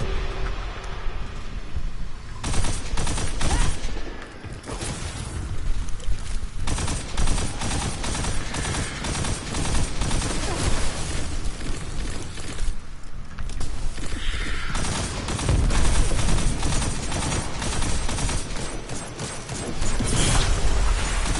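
Sustained gunfire from a weapon in Destiny 2 rattles on for most of the stretch in dense, rapid bursts with brief pauses, loud and mechanical, layered over busy game effects with no talking.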